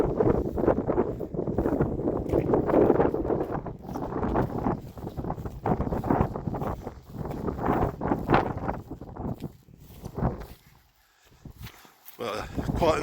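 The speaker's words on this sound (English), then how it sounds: "it's very, very windy, so sound quality is going to be rubbish" Strong wind buffets a microphone on an outdoor trackway near a Roman road, a loud, uneven low rumble that gusts and drops throughout and briefly eases near the end.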